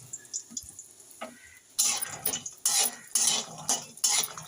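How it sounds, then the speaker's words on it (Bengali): Lentil badi frying in hot oil in a wok while a utensil stirs them, giving repeated scraping bursts with a sizzling hiss after a quieter start, close and without talk. "ভালো করে আমি নেড়ে নেড়ে দেবো।"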